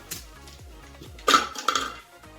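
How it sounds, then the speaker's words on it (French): Caramelized hazelnut pieces, broken by hand into small bits, tumble and clatter into a blender bowl in a quiet kitchen, a few soft knocks followed by a louder burst of rattling pieces and clinks against the bowl. "je les casse légèrement en petits morceaux et je viens donc ensuite les mettre dans le bol de mon mixeur"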